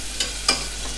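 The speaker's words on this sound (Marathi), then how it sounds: "आपला कांदा छान लाल होत नाही तोपर्यंत छान असं परतून घेऊया." Onions sautéing in hot oil for a restaurant-style dal khichdi, a steady close sizzle with two brief stirring scrapes, no voices.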